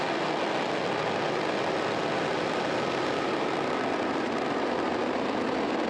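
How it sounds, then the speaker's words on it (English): A Falcon 9 rocket's engines roar at liftoff on the NROL-77 launch, a loud, continuous broadband rumble that holds steady throughout with no voices. "Engines full power and liftoff."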